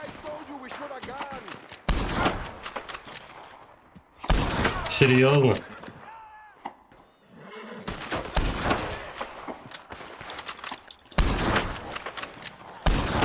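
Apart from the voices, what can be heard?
rifle gunshots in a video game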